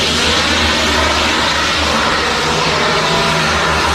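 A fixed-wing airplane lands at the small mountain airport serving the Everest Base Camp trek in Nepal, its engine and propeller roar filling the scene as a loud, steady, broadband drone with a low hum underneath and no speech.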